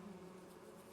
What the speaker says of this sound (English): the bees have woken up, they started going out again. Look at them.